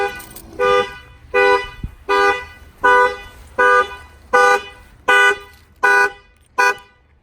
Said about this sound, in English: I'm going to go ahead and tap on the glass. Should fire off the alarm.